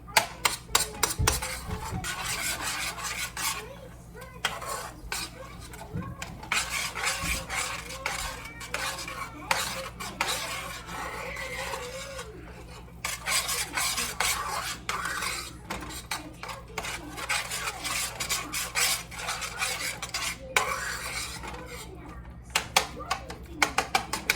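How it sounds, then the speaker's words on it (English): A utensil stirs sweet chili glazed pork in a pan, making repeated scraping and clinking strokes with a light sizzle underneath, close by, while a person talks over it. "Stir all that in."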